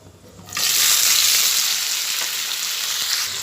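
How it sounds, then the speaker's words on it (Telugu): Chopped tomatoes and green chillies sizzle in hot oil for tomato chutney, a steady, loud hiss that bursts in after a short quiet moment and holds on evenly with no voices. "బాగా ఫ్రై అవుతున్నాయి. మనం ఆయిల్లోనే చేసుకుంటున్నాం."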